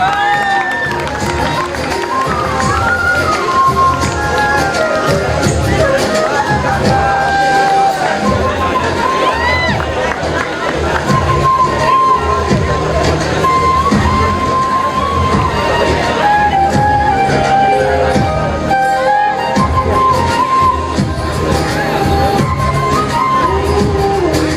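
Loud audience cheering, shouting and clapping at a school farewell party, a dense continuous crowd roar with whistles and musical tones mixed in throughout, no break in the noise.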